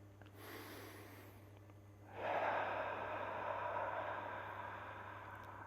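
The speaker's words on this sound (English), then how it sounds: "take a deep breath all the way down into the stomach, and breathe out" A deep breath drawn in through the nose, a soft airy inhale followed by a longer, louder exhale that fades slowly, close and quiet with no talking.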